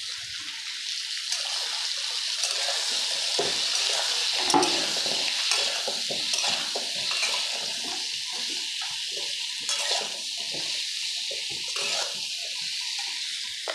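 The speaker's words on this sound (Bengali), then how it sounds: "এইবারে একটু নাড়াচাড়া করব" A spoon stirs methamba, a Bengali curry, in a pan, giving a continuous wet scraping and sizzling with soft irregular clinks, steady and close throughout.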